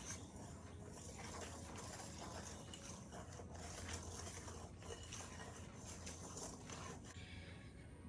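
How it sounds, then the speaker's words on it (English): Metal whisk stirring evaporated milk and strawberry extract into cobbler batter in a bowl, a steady quiet scraping and clinking that runs continuously and fades at the end. "And whisk that in."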